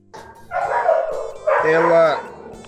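Dogs bark indoors in a room, two loud, close bursts of yipping, whining barks, the second longer and more tonal, with no talk over them.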